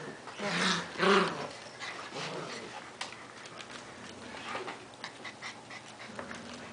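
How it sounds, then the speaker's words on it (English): Young puppies growl and whimper softly nearby in short, low rumbling bursts, faint and intermittent over a quiet room. "Who's growling?"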